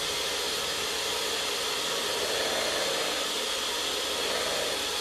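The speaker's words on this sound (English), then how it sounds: "If you've never whisked egg whites before, it is a strange experience." An electric whisk whips egg whites for a lemon cake: a steady, close, high whirring hiss runs without a break for the whole stretch.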